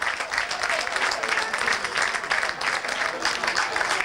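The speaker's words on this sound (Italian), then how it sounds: "tra gli applausi del pubblico di casa" A home football crowd applauds as Ribera and Palermitana walk onto the pitch for a promotion celebration to Serie D, sustained clapping rolling continuously throughout, fairly loud and close.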